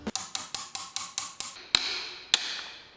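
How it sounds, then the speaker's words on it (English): A hammer strikes the counterweight of a three-rotor rotary engine during a teardown, a quick series of sharp metallic ringing blows followed by two spaced, harder hits that ring on. "instead of just hitting this by hand, we're gonna actually hit it with a hammer to simulate an impact driver"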